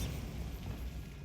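Bombarda blasting spell cast in Hogwarts Legacy, a loud, dense low rumbling burst that fills the whole short moment without a clear attack or tail.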